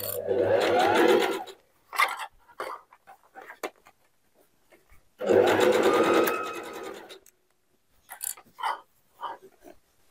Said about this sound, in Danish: Så jeg syr en stikning rundt op på hattebåndet.